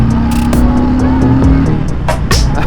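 A 2020 Harley-Davidson Breakout motorcycle cruising in third gear at about 50 mph, its V-twin engine a loud, steady low rumble with rushing wind noise and a few brief buffeting gusts.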